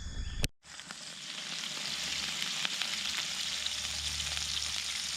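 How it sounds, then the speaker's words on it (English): Potatoes sizzle steadily in hot oil, producing a loud, continuous crackling fry that starts right after a brief clatter and holds without pause. "I'm going to try to fry them"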